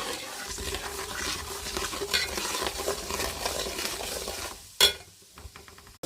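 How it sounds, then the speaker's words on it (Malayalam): Chili powder is stirred into lemon pickle in a pan with a steady, close scraping and soft sizzle, broken by a sharp clink of the spoon near the end. "നാല് ടീസ്പൂൺ മുളക് പൊടി ഇട്ട് കൊടുക്കാം. നന്നായി മിക്സ് ചെയ്ത് കൊടുക്കാം."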